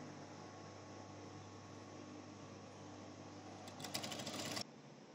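A sewing machine stitching a shirt placket, running in one long steady whir, with a brief burst of brighter rattling near the end before it cuts off into quieter room hum.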